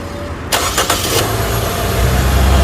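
A Nissan Sylphy's engine cranks briefly after an injector service, catches with a few sharp bursts, then settles into a steady, close idle with a low rumble growing slightly toward the end.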